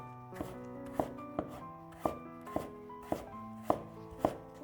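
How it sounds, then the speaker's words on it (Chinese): A knife chops celtuce (stem lettuce) into thin shreds on a board, with sharp, evenly spaced strokes about every half second, close and clear with no talking. "再切成细丝"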